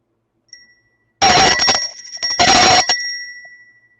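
A bright bell chime rings as a notification-style sound effect, two loud bursts of ringing with a sustained tone that fades out at the end.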